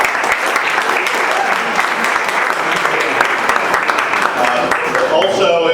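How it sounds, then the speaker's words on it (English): A sustained, loud round of applause from the whole audience at an evening sales-career event, steady crowd clapping throughout with some cheering near the end. "let's just do a round of applause for just everyone here tonight"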